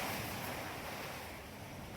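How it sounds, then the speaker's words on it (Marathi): Heavy rain drumming on a metal sheet roof, a dense, continuous hiss-like roar at an even level for the whole stretch, with no voices over it. "पाऊस चालू झाला बघा एकदम जोरदार पत्र्यावर एकदम आवाज यायला लागलाय"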